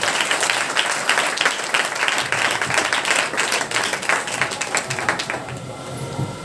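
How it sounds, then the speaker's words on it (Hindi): A church congregation applauds in thanks to the Lord during a Hindi worship service, dense sustained clapping filling the whole stretch at steady loudness, with a few voices faintly mixed in. "आइए ताली बजाकर प्रभु का धन्यवाद करें।"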